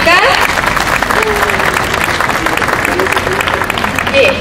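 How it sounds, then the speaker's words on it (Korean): Outdoor crowd clapping to welcome guests at a memorial talk concert in front of Daehanmun gate in Seoul, steady and close, with a brief voice over the clapping at the start and end. "박수로 맞이해 주시겠습니까?"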